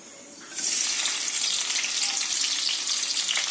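Onion tipped into hot oil for a cabbage sabzi bursts into a loud, close sizzle after a brief quiet start, then holds as a steady, dense frying hiss to the end.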